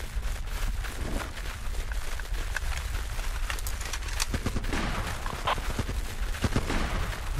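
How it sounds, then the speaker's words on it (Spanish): Gunfire in the war video game Running With Rifles, scattered sharp shots and bursts echoing at a distance, fairly faint over a low rumbling battlefield background. "Disparo cerca de South Trench"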